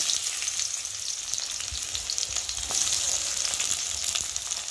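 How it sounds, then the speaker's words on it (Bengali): Sliced onions fry in hot mustard oil in a wok, giving a steady close sizzle with soft crackles and faint stirring scrapes and no talking throughout. "এখন আমি পেঁয়াজগুলোকে দিয়ে পেঁয়াজ দিয়ে ভালো করে একটু ভেজে নেব"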